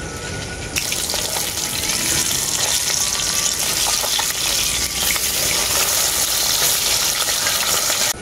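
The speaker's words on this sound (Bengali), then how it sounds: "প্রথমে আমি পার্শে বাটা মাছগুলোই আমি ভেজে নেব।" Parshe fish frying in mustard oil in a pan, a loud, continuous close-up sizzle and crackle with no talking.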